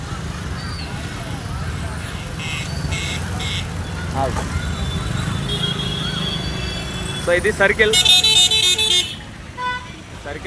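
Busy road traffic at a traffic circle during a student rally, with engines rumbling and several car horns honking, a cluster of honks near the end, while someone talks over the noise.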